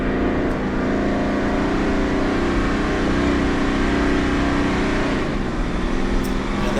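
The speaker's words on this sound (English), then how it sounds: "the engine revving there, that's a function of me having manual mode, not changing gears when I should" An Ineos Grenadier engine revs hard in a low gear while driving off road in manual mode, a steady loud drone with a brief dip in pitch near the end.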